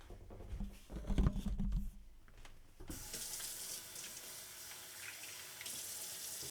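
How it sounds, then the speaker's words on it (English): Tap water runs and splashes into a service dog's food bowl indoors, first a heavier close gush, then a steady hissing stream for several seconds. "I put water in it."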